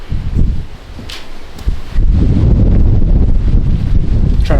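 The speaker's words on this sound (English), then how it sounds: "Try to block you off from the wind." Wind buffets a microphone outdoors in strong, rumbling gusts that grow louder and more constant partway through, with no voices.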